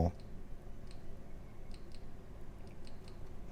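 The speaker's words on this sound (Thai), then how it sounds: "ดับเบิลคลิกเพื่อไปเทอร์โบ" Olight Arkfeld UV flashlight button pressed in quick double clicks to switch to turbo mode, several small, sharp, close clicks in pairs over a faint background.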